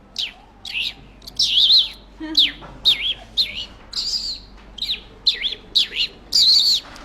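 A man imitates sparrow chirping, making a quick series of bright, high chirps and tweets in short bursts, close and clear with no other sound.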